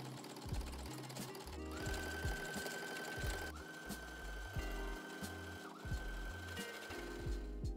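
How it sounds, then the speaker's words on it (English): A sewing machine stitches the side seams of a wrap skirt in repeated close bursts of rapid mechanical whirring, with short pauses and clicks between runs as the fabric is repositioned. "just go ahead and sew these side seams"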